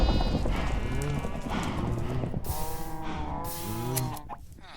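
A cow moos in a farming video game, several drawn-out lowing calls around the middle and end of the clip, close and clear over a steady game soundscape, with no talking.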